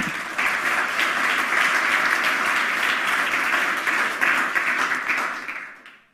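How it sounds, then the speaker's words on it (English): A conference audience bursts into sustained, even applause for a speaker at a hacker congress talk, holding steady for several seconds before quickly fading out. "Please give her a round of applause."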